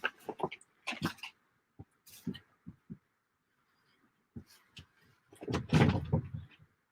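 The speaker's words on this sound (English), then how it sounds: "Let me close the door." A door is handled and shut indoors with a string of soft knocks and clicks, ending in a louder rattling thud and settling noise.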